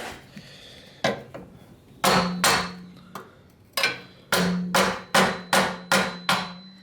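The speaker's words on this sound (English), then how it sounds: "do you think you can try to hammer this and bend it down?" About a dozen sharp, ringing metal hammer strikes land close by at an uneven pace, some in quick pairs or runs, while bending metal during an E36 turbo engine build.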